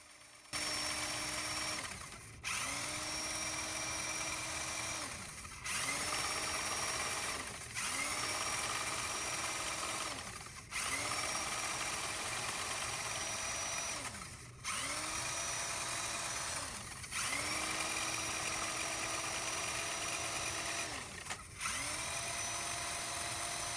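A Harbor Freight drain snake runs in a clogged drain with a steady motor whine, stopping and restarting every few seconds as its pitch rises and settles, close and continuous, no talking.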